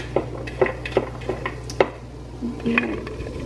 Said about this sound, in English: I'm just going to dump all zucchini I just cut